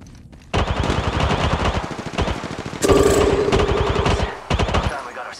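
Rapid automatic gunfire in Apex Legends Mobile rattles in dense, loud bursts at close range, broken by brief pauses, with game announcer voice lines heard over the shooting.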